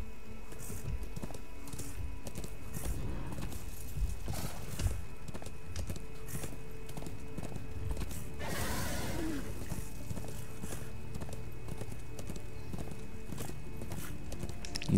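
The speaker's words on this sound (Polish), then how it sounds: "O, dobra, mamy konia." A horse in Darksiders 2 clops steadily on open ground near a great volcano, with one brief neigh midway. The hooves are moderately loud over a constant ambient hum.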